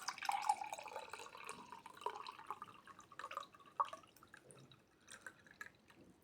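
A non-sparkling Mentos berry mix drink with jelly bites is poured into a glass, giving faint, close trickling and splashing with small drips and gurgles that taper off.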